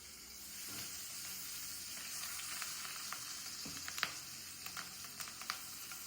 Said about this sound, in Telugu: పచ్చిమిర్చి కొంచెం ఫ్రై చేసుకోండి